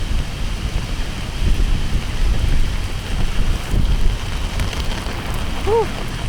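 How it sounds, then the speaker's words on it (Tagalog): Dense, steady hiss of heavy rain with gusty wind rumble on the microphone, loud and continuous, with a faint short chirp near the end. "Napakalakas ng ulan."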